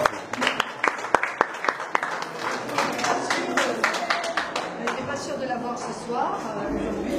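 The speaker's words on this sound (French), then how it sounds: "Alors là, je vous demande déjà de bien l'applaudir." An audience applauds an artist at a June 2014 art exhibition opening at Espace Magnan, with steady clapping from a crowd in a reverberant room and loud individual claps near the start.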